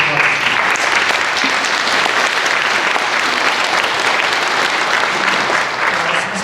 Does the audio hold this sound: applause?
yes